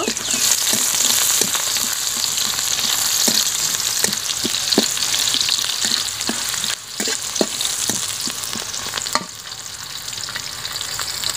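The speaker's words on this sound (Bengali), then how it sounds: "পেঁয়াজটা একটু লাল লাল করে ভেজে নিব।" Chopped onions frying in oil with a bay leaf, a loud continuous sizzle with regular light taps and scrapes of a spatula, close up and alone.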